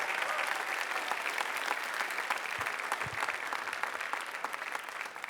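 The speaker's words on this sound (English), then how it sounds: "Could we please give a massive round of applause for our amazing panelists?" Audience applause for panelists at a school writers' week event, a dense, even wash of many hands clapping for several seconds, moderately distant.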